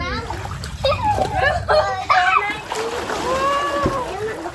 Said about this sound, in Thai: เขาเล่นน้ำกัน